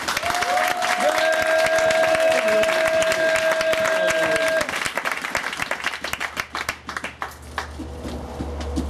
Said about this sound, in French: On peut l'applaudir un peu.